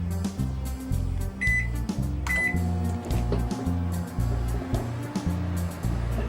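An Emerson MW1612B microwave oven runs while heating a bowl of chili, giving a steady low hum with a rhythmic pulsing drone and a couple of brief high beeps, close and continuous throughout.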